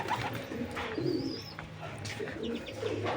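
A pair of kept doves coos softly in a low, repeated call, with faint chirps and background outdoor noise; no speech.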